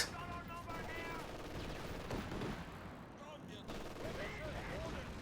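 Machine gun fire in a strategy video game battle, a continuous dense clatter of shots and distant blasts under ongoing commentary, moderately loud and layered with other battlefield noise.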